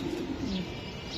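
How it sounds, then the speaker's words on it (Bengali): A large black racing pigeon coos close by, a low, throaty coo that warbles briefly over a constant background murmur. "বিশাল সাইজের কবুতর, খুবই সুন্দর একটা ব্ল্যাক কবুতর।"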